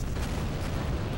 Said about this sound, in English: there's so many explosions going on